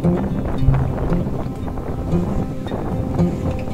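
Strong wind roars and buffets the microphone on a quarter-ton racing yacht moving at speed on open water, a continuous low rumble with gusting bursts.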